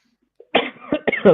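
A few harsh coughs in quick succession, close and loud, after a brief silence.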